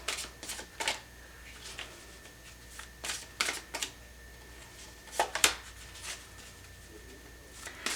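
Large tarot cards are shuffled and picked by hand, giving quick papery riffles and flicks in irregular bursts over a quiet room, close and soft with no talk.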